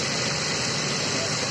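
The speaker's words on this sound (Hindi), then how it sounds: "गाड़ी स्टार्ट हो गई भाई" Maruti Ertiga car engine idling steadily right after starting, following a cylinder head overhaul; a continuous close, even engine hum runs through without a break.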